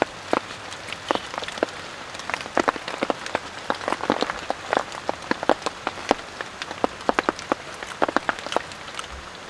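Heavy rain pours steadily on a bushcraft shelter in deep forest, with a dense hiss and many sharp drops spattering on a hard surface close by. No voices.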